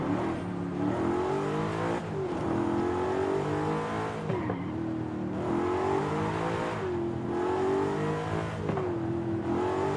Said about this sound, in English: I don't know if that's just the sound of the engine or if that's the sound of the supercharger